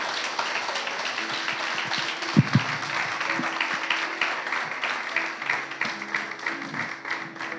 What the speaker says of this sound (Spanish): Dale un fuerte aplauso porque es para Él